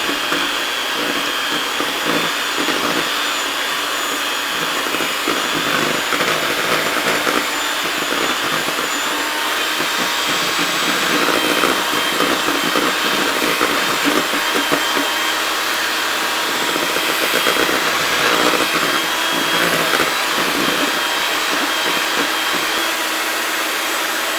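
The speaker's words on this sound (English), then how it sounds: "I'm going to use my hand mixer for this" An electric hand mixer on a low setting whirs steadily through cake batter for tart shells, a continuous close motor whine with a slightly rough churning texture that holds constant for the whole stretch, no talking over it.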